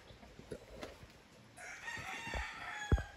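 Rooster crowing faintly in the background, a short call rising amid scattered clucks and soft outdoor noise, fairly distant and quiet.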